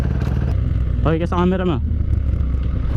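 A KTM Duke 390 motorcycle carrying a passenger gives a steady, low engine rumble throughout, with a short spoken phrase heard over it midway.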